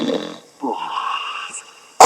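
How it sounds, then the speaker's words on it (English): A giant snores loudly, a wheezing, rattling snore followed by a long whistling breath, with a sharp noise at the very end. "he began to snore so loudly that it sounded like thunder"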